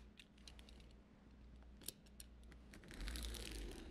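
An X-Acto knife draws through a beeswax sheet with soft, close scraping and small ticks, the slicing growing louder and fuller toward the end.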